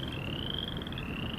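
Tree frogs croak in a steady, continuous outdoor chorus with a sustained high trill, moderately distant and even in level, with no talking.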